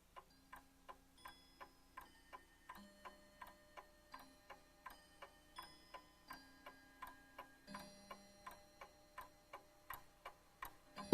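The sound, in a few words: clock ticking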